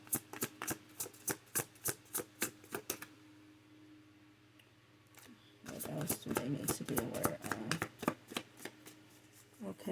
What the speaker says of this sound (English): We'll do one last shuffle.